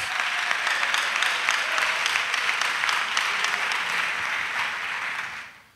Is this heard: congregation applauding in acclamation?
yes